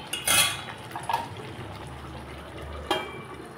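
The lid of a cooking pot of cauliflower and potato curry lifted open, a sharp metallic clatter at the start and a lighter knock shortly after, then a low simmering hiss and another soft clink near the end.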